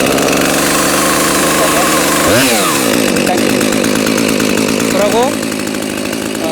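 A small two-stroke chainsaw engine sputters and catches after the choke is pulled, revving up and down a couple of times before settling into a rough idle in winter cold, with a brief spoken word.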